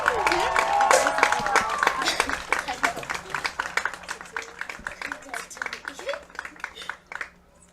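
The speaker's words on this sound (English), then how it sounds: "one more big round of applause for our White County High School baseball class of 2025" A crowd claps in a fast, rhythmic burst to honor the senior class at a White County High School baseball senior night. The applause is close and sustained and gradually thins out, with a voice briefly heard at the start.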